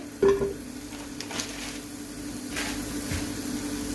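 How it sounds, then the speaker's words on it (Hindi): Butter sizzling as it melts in a pan, with a soft, steady frying hiss, occasional stirring scrapes and a brief louder sizzle near the start. "अब हम एक पैन के अंदर बटर डालेंगे"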